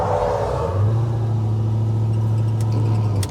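A 1968 Chevy with an LS engine swap and 12.5:1 compression running close by, a steady low idle rumble with a firm droning tone throughout and a few light clicks near the end.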